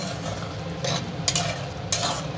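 Chicken pieces go into a pot of boiling chilli chicken sauce and are stirred, with a steady bubbling simmer and three short scraping strokes of a spoon against the pan.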